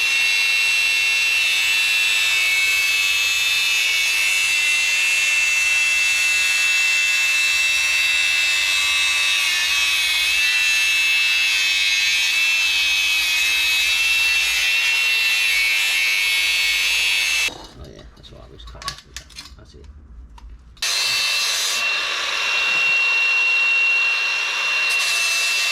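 Power tool cutting through a Mercedes Sprinter pipe, a loud, steady high-pitched grinding whine that runs continuously, drops out for a few seconds, then resumes.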